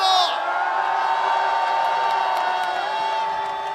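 A large crowd at a political rally in Korea cheers and shouts loudly and continuously, with whoops and applause blending into a sustained roar.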